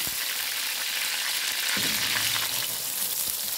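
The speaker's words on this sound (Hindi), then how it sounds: "मैं आलू को थोड़ा सा फ्राई करूँगी इस मसाले में" Thick-cut potatoes frying in spice masala for aloo palak, a dense close sizzle with a stirring scrape partway through, steady and loud throughout.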